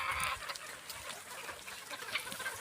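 A rooster and hens on a Filipino farm, clucking and squawking in irregular bursts, close and fairly loud, with no talking.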